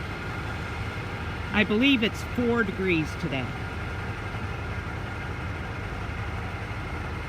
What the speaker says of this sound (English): that's a pickup running in the background.